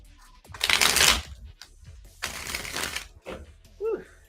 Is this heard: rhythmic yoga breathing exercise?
no